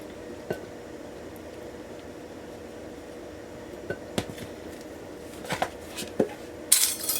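Bread flour is stirred into sourdough in a bowl, producing soft scrapes and a few scattered clinks and knocks of utensil against the bowl, quiet and irregular with no talking.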